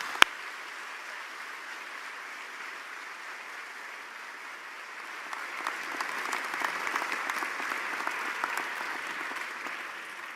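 Applause from a University of Liverpool graduation ceremony audience in a large hall, a steady continuous roar of clapping that swells louder about halfway through, with occasional sharper individual claps.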